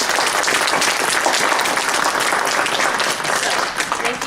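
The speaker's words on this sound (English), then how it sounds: "now I'd like to give a round of applause to our family and friends who have supported us along the way" The audience at a fall 2019 non-traditional student graduation ceremony gives family and friends a round of applause. It is a loud, dense, continuous wash of clapping from the crowd in the hall.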